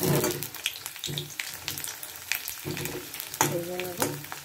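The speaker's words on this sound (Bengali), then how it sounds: "এবার আমি এই যে দুটো আলু নিয়েছি, আলুগুলোকে ভেজে নেব।" Potatoes fry in hot oil with a busy, crackling sizzle, broken by stirring scrapes and small clatters in an uneven rhythm, close and moderately loud.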